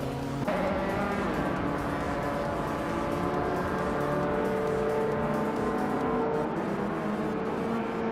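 A 1982 Lancia 037 Stradale race car roars steadily in a racing video game, its engine note a loud continuous drone with layered harmonics and slight pitch shifts, holding at full volume without a break.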